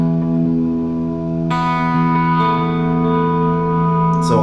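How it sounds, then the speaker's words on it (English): An electric guitar runs through a pedalboard with light compression, heavy delay and room reverb at 70 BPM, sounding clean, sustained chords that ring out and blur together, with fresh strums landing at a slow, even pace. "So we are at 70 BPM and looks like a room reverb."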